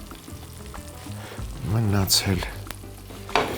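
Pieces of pork neck fry in a pan with a loud, continuous sizzle that swells midway, and a few spoken words come in over the crackle.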